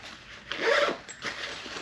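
A zipper is drawn shut on a pocket of a 45-litre gym backpack, making two quick close rasping pulls against a quiet background.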